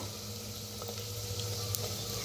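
Peanut spice paste roasting in a clay pot, a soft continuous sizzle and faint frying crackle with occasional light scraping, steady and close under a low background hum.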